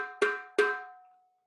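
Struck metal rings out as a frying pan plays a short call: bright, close clanks with sharp attacks, each ringing briefly before fading into silence, with no voices.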